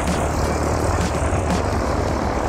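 A Cessna 152 propeller airplane engine drones loudly and steadily on an airport ramp, a close, continuous rumble with no one talking.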